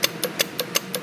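A pneumatic hit and miss motor running on compressed air with a small muffler, giving six evenly spaced sharp puffing exhaust beats, close and steady.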